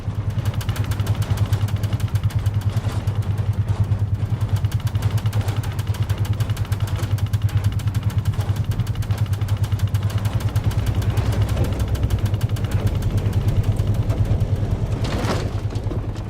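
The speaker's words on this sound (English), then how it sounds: "we would attach various things to the paint shaker, metal shelves, pieces of plastic to simulate the overhead luggage compartments, etc., and then just try shaking them at various frequencies" Metal shelves and plastic pieces rattle and buzz on a running paint shaker in a fast, steady mechanical vibration, loud and continuous for the whole stretch, with no voices.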